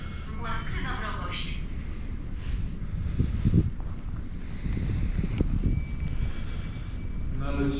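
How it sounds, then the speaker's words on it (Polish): Steady wind buffets the microphone at a mausoleum, a continuous low rumble and hiss throughout, loud and unbroken, with faint voices under it. "Wiatr. No wiatr jest straszny."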